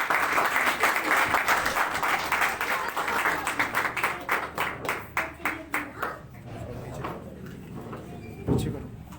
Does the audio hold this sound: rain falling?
no